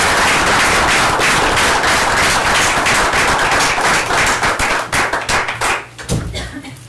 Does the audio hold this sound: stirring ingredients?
no